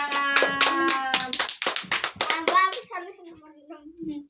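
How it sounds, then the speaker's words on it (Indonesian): Children clap their hands in a classroom in quick, sharp bursts, mixed with their chanting voices. The clapping and voices fade out toward the end. "Tepuk tangan."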